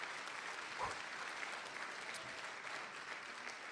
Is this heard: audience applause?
yes